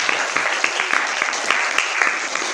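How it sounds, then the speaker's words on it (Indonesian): A classroom of students applauding together, dense, steady, close clapping that stays loud and even throughout its short length. "tepuk tangan dulu buat Nabila"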